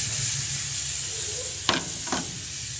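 A pot roast searing in a pan on medium heat, a steady close sizzle with two brief sharper bursts near the end.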